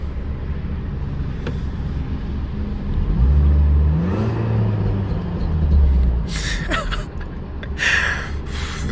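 A Mini Cooper S with a 170 hp engine heard from inside the cabin: a steady low rumble that swells into revving in the middle and eases off, with a few brief higher noises near the end.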